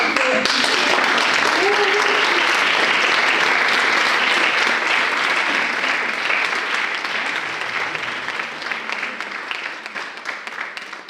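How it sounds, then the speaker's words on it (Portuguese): Audience at an inspirational live event in Portugal breaking into sustained, dense applause that stays loud for several seconds before gradually thinning out. "E agora uma salva de palmas para a minha mãe."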